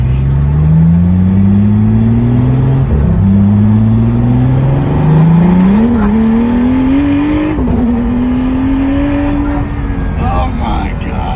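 A Lamborghini Murcielago with a six-speed gated shifter revs and accelerates loudly, its engine pitch sweeping upward through several gear changes with short dips between pulls, close and dominant throughout.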